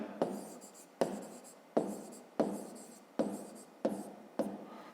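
Pen strokes on paper while a math expression for a fifth-grade exercise is written out by hand: seven distinct scratchy strokes in a steady rhythm, each starting sharply and trailing off, close and fairly quiet with no talking.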